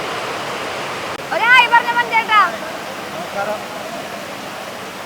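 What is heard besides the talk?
heavy rain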